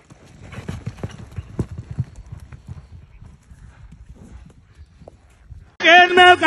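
Horse hooves clip-clop in an irregular, moderately close stream on a ranch, fading toward a quiet pause before loud singing-like vocals break in at the end.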